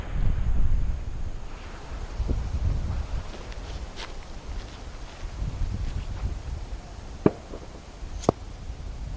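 Wind gusts buffet the microphone at an outdoor long-range shooting spot, a loud low rumble that swells and eases continuously, with a couple of sharp faint knocks near the end.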